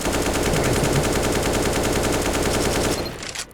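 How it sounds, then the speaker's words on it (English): Sustained full-auto rifle fire in the CS:GO video game, sprayed without any recoil control, a dense rapid rhythm of shots lasting about three seconds before cutting off abruptly, with a brief trailing echo. "So obviously here, this is if you just shoot normally."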